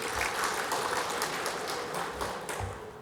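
An audience at a financial talk claps for the secretary, a fairly faint but continuous burst of applause from a mid-sized room that fades slightly toward the close.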